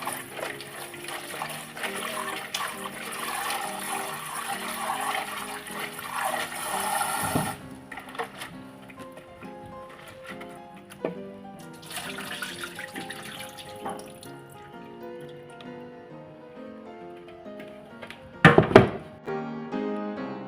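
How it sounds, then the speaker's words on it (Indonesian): Tap water runs steadily into a sink as green curly chili peppers are washed, with the flow changing and splashing as the peppers are moved and a few thunks against the basin. "aku mau cuci ini dulu sebentar"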